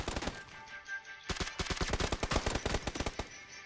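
Rapid video game gunshots crack in quick, evenly spaced bursts, with a short pause before a longer, denser volley, loud and up close with no talk over them.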